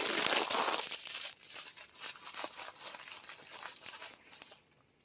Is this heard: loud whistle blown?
no